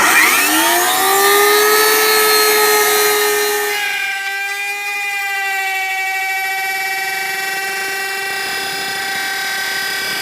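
A router spins up and cuts a groove along a wooden beehive bottom board, its loud rising whine levelling into a steady high-pitched drone, close and with no talk.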